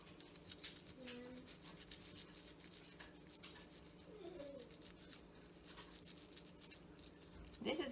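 An old toothbrush scrubs jewelry coated in Dawn dish soap, making soft, close rubbing and bristle scratches in a quiet, uneven rhythm, with a faint squeak or two.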